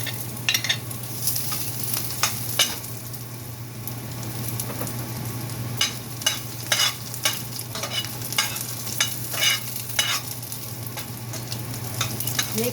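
Garlic sizzling and frying in a hot pot at the start of a bean sprout stir fry, a steady close crackle with a low hum under it and repeated sharp clatters of stirring.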